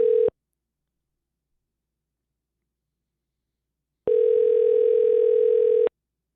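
Phone call ringing out on a podcast line: a steady electronic ring tone, first a brief clipped burst, then silence, then one longer ring.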